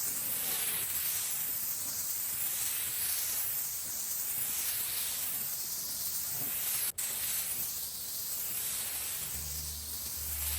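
A spray gun lays a primer coat on car bodywork, a steady broad hiss of air and paint that runs nearly unbroken, with a brief cutoff midway and a low hum near the end.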